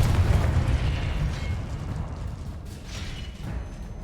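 A Confringo spell explosion in the Hogwarts Legacy video game makes a deep, rumbling boom that starts loud and slowly fades over a few seconds, with no talking.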